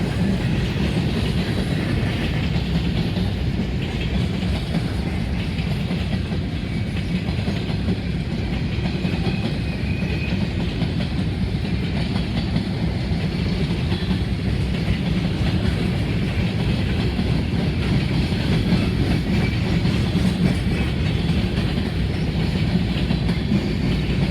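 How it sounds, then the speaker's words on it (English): A long coal freight train passes a rail crossing in Greenwich, Ohio at about 40 mph, giving a steady, loud, close rumble with clickety-clack of wheels and no talk. "Some of these coal cars even have the old NYC reporting marks they got from the breakup of Conrail"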